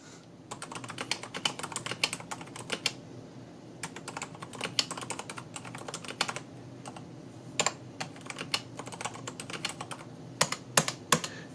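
Steady typing on a Kensington MK7500F QuietType Pro silent mechanical keyboard, a continuous run of soft clicks with a few heavier key strikes scattered throughout.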